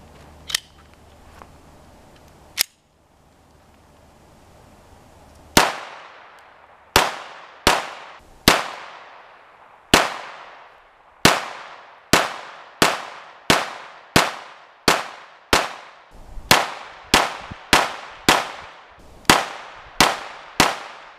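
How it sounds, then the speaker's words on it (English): A GSG trail gun firing CCI Mini-Mag rounds outdoors in the woods: a couple of isolated sharp cracks, then a steady string of about fifteen loud, evenly spaced shots, each with a short decaying ring. "that's a little video of me shooting my new little trail gun"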